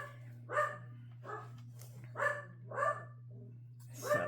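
Several dogs bark in short separate bursts, some close and some a little farther off, over a steady low hum indoors.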